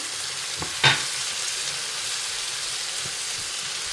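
A garlic and ginger tadka for eggplant bharta frying in a pan gives a steady soft sizzle, with one brief clink of a utensil near the start.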